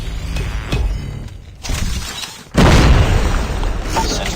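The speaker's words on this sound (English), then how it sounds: "Grenade!" A grenade blast in the mobile shooter Call of Duty Mobile, a loud boom with a shattering burst that erupts partway through amid ongoing gunfire and in-game mechanical clatter.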